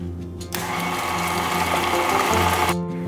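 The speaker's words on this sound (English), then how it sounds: "Then I'm gonna put back on my wire whisk attachment, and then we're just ready to stir this up." An electric mixer with a wire whisk attachment whirs steadily through honey cake batter, starting abruptly, running loud and close for about two seconds and then cutting off, with no talking.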